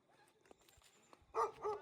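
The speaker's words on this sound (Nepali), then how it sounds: "मलाई कुकुरले भोको अब कसरी जाने चुप" A quiet pause gives way to two quick dog barks in succession in a village in Ramechhap, Nepal, near and moderately loud.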